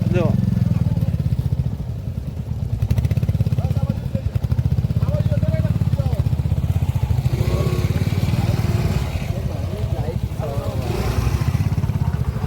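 A motorcycle engine chugs and revs steadily up close as the bike slips through mud near Kadana Dam, with people calling out over it.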